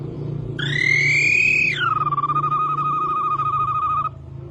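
A human imitator from the Brazilian sertão mimics a rattlesnake with a loud whistled tone that rises, drops, then holds steady with a rapid pulsing flutter before fading, over a low background hum.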